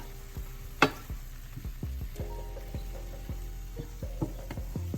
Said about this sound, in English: And you start stirring your meat so it can brown evenly.